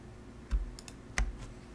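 A few light, quiet keystrokes on a computer keyboard typing the Control P shortcut, spaced irregularly against a faint background hum.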